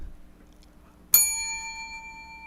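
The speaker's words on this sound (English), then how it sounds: "I fixed the bell." A single bicycle bell strikes once, sharp and close, then rings out in a long fading tone over a quiet background.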